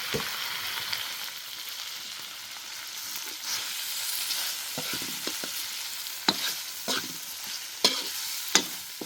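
Cow offal frying in a pan in a rustic highland garden-house kitchen gives a steady close sizzle, broken by scattered clicks and clatters of stirring toward the end.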